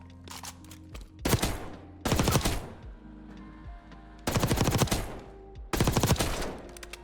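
Automatic gunfire from a gun in Black Ops 6 comes in four loud, rapid bursts, each lasting about a second. The bursts are split by short pauses, with faint game sounds in between.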